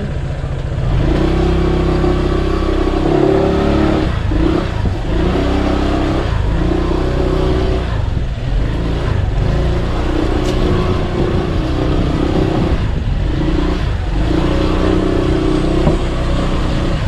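A motorcycle engine revs repeatedly in bursts, rising and falling in a rough, throaty rhythm, loud and close outdoors with no talk over it.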